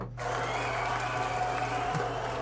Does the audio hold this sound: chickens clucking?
no